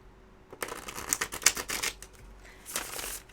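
Quick crisp flutters of tarot cards being riffled, a rapid crackling burst followed by a shorter second riffle, close and fairly quiet.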